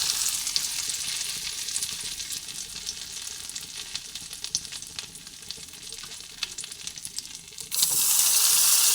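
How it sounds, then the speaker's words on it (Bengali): Cashews and raisins sizzle steadily in melted ghee for a rice payesh, a dense crackling hiss that runs continuously and swells louder near the end. "আমি এর মধ্যে এই কাজু কিশমিশগুলো দিয়ে ভেজে নিচ্ছি"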